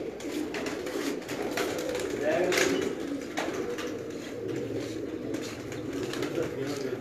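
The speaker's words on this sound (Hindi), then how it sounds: "गोल्डन कबूतर" Golden pigeons from a Sialkot breeder's loft give soft, low coos amid steady background noise, with no clear talk over them.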